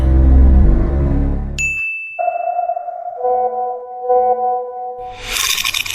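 A short bright ding of a phone message alert in an animated Hindi cartoon, a single clear tone that rings out briefly, followed by a sustained humming tone and a burst of noise.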